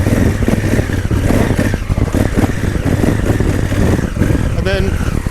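A Honda Africa Twin DCT motorcycle has its throttle blipped in short repeated bursts while the rear brake holds it back, giving a loud, close engine drone that surges and dips in a steady rhythm.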